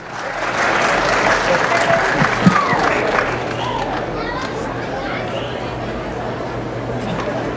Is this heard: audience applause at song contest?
yes